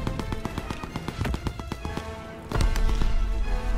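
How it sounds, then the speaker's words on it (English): Mortar rounds exploding in a Ardennes Forest V2-rocket video game match, a rapid series of sharp cracking blasts in quick succession, followed by a heavier, deeper rumbling burst near the end. "Sending mortar rounds"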